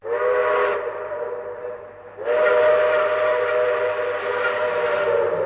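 A model train gives a loud, steady steam-style whistle in two long blasts, the first short and the second held for several seconds with a breathy hiss, heard alone with no talk.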